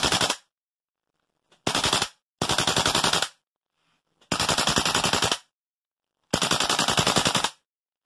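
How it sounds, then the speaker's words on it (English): A Tokyo Marui AKM gas blowback airsoft rifle dry fires unloaded in four short full-auto bursts of rapid, sharp clacking cycles, close and loud, with silent gaps between bursts. "It's not loaded, so this is just going to be a dry fire example."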